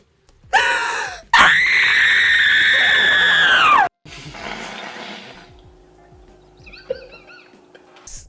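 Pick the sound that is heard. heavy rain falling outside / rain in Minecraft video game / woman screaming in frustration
woman screaming in frustration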